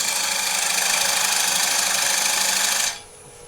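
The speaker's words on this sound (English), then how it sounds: "Parting tool cut to the inside of that line that I've just made." A wood lathe turning a wooden table lamp blank while a parting tool cuts in. It gives a loud, continuous whirring scrape with a steady tone for about three seconds, then cuts off abruptly, leaving faint room hum.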